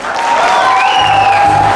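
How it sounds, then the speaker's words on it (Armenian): Wedding guests applauding on the bride's side at a lavish celebration in Gyumri, a dense steady wash of clapping with crowd murmur, loud and close throughout. "հիմա հարսիկի կողմը ծափեր տա"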